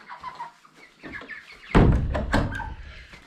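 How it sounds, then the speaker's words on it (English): Rhode Island Red chickens cluck and squawk nearby in short, uneven calls, rising to a louder burst of overlapping noise midway, with no talking. "Let's go and check on the Rhode Island red chicks."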